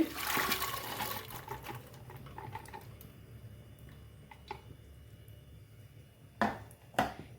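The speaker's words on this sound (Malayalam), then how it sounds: "ഇപ്പം നമ്മൾ കുക്കർ അടുപ്പത്ത് വെച്ചു അതിലേക്ക് ഞാൻ പരിപ്പ് ഒഴിക്കുകയാണ്" A rushing pour of dry lentils into a metal pressure cooker on the stove at the start, followed by quieter rattles and a couple of sharp clinks later on.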